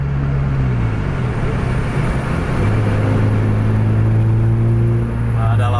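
Scania or Mercedes bus engine pulling through congested traffic, a loud, heavy diesel drone whose low tones climb steadily as it accelerates, with a faint high whine near the end.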